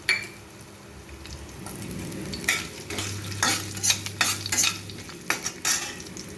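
Cumin seeds, coriander seeds and ginger pieces frying in hot oil for ginger chutney, a soft steady sizzle broken by several scraping stirs of a spoon against the pan.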